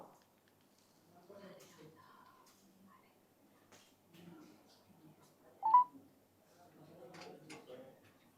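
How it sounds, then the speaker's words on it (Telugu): A telephone number is dialed, heard as faint scattered keypad tones with one brief louder beep near the middle. Quiet handling noises and soft voices run underneath in an otherwise hushed setting. "వీణా గారికి కాల్ చేసి ప్రయత్నం చేద్దాం."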